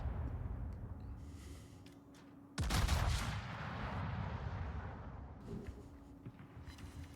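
In a warship video game, the battleship R. Lauria fires a naval gun salvo: one heavy, sudden boom that rolls into a fading rumble over a low background drone.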